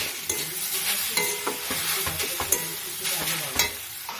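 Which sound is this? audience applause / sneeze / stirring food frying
stirring food frying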